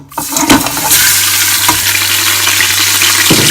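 Meat for Moroccan couscous dropped into a hot pot and frying, a loud, sustained hiss and sizzle starting abruptly and holding steady, with a brief clatter near the start and another toward the end.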